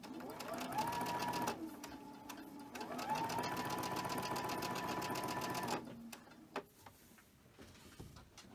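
A sewing machine chain stitches quilt pieces together in two quick rapid bursts of close, rhythmic needle clatter, followed by a few quiet clicks and handling sounds.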